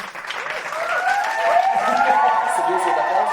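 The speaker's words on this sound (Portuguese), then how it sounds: "Subiu o aplauso?" A played applause sound effect on a Brazilian talk show swells into sustained clapping and crowd noise, with some voice-like tones layered over it.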